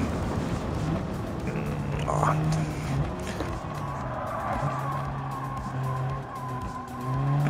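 Tyres squeal and skid as an open KTM X-Bow slides through the streets of Tokyo in Gran Turismo 7, long wavering screeches over a steady engine drone, with someone talking excitedly over the top.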